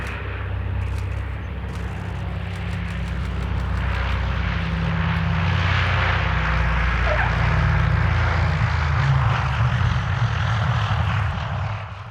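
The historic C-47 'That's All, Brother' is in flight, and its propeller engines give a loud, steady drone that holds for the whole stretch and swells slightly before easing near the end. No voices are heard.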